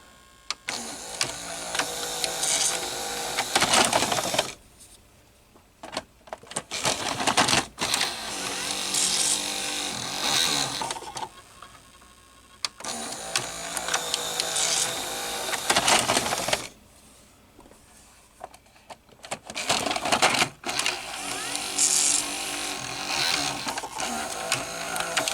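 A Panasonic NV-HD100PX VCR with its K mechanism running, close-up mechanical whirring, clicking and gear chatter in bursts, with brief quiet gaps between cycles.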